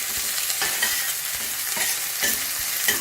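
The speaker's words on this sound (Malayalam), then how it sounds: "ഒരു തണ്ട് കറിവേപ്പിലയാണ് ചേർത്ത് കൊടുക്കുന്നത്. എന്നിട്ട് വീണ്ടും നമുക്ക് നന്നായിട്ടൊന്ന് വഴറ്റി കൊടുക്കാം." A sprig of curry leaves sizzles as it is sautéed in a pan for chicken sambar, with a spoon scraping and stirring in repeated strokes over a steady frying hiss.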